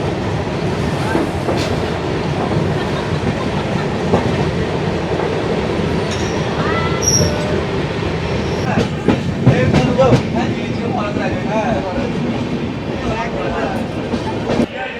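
The 18009 Santragachi–Ajmer Express rolls along the rails: a steady, close rumble with scattered clicks and clanks from the wheels and carriages, and faint voices in the background.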